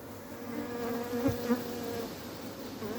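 Honeybees hum in a steady, dense drone close by at a hive opened for the first time after cold weather, a continuous buzzing swarm with slight rises and falls in pitch.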